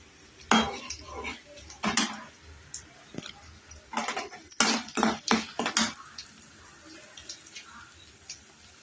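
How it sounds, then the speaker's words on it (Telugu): Chopped okra pieces tipped into a hot frying pan with curry leaves for a ladies finger fry, giving a string of close metallic clatters and scrapes of utensil on pan, with softer sizzling between the bursts. "ఇప్పుడైతే మనం కట్ చేసి పెట్టుకున్న బెండకాయ ముక్కలు అయితే వేసేసుకుందాం"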